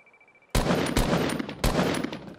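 Gunfire in a shooting video game: after a faint quiet start, three loud close bursts of rapid shots follow in quick succession, echoing and filling the rest of the moment.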